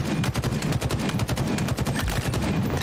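Rapid gunfire from the Halo video game, a dense run of sharp shots firing in quick succession for about three seconds, loud and continuous with no voices.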